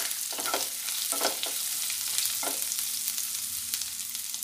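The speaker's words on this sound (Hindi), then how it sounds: "अदरक का पेस्ट, थोड़ा सा भूनेंगे।" Ginger paste frying in a pan while making vada pav, a steady close sizzle with a few brief stirring scrapes, no talk.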